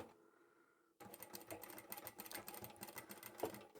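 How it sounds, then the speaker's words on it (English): A sewing machine stitches through layered fabric for a zippered boxed pouch, starting abruptly after a faint hum and running in a steady, rapid mechanical chatter with no talking. "I'll take this to the machine, sew them individually"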